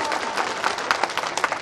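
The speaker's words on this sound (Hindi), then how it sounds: "और देता है तो जोरदार ताली बजा दो महाराज के सामने।" Loud applause from a crowd at a Gwalior political gathering, dense clapping filling the hall steadily throughout with no talk over it.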